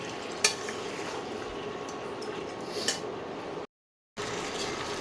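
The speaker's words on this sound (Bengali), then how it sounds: "এইভাবে আমি স্টকটা অল্প অল্প করে দিচ্ছি আর মাংসটা কষাচ্ছি" Mutton fries in a pan as stock is added bit by bit, a steady sizzle with occasional scrapes and clinks of a stirring spoon, close up, then a brief dropout before the frying resumes.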